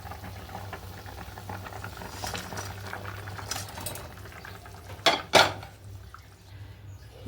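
Paneer pieces going into a pot of thin, simmering vegetarian curry: a low steady simmer, then two sharp close splashy clatters near the end, with no talking.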